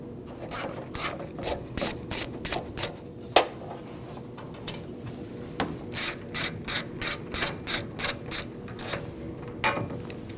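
A ratchet wrench loosens 10 mm bolts holding the AC condenser to the radiator on a Nissan NV2500 van, with close, crisp bursts of rapid clicking in two separate runs divided by a short pause.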